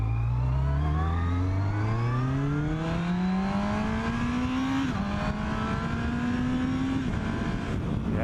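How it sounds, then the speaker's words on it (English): A modern classic superbike pulls out from a junction, its engine revving loud and close through rising gear pulls with a brief dip between shifts, steady and continuous with no talk. "listen to the engine again"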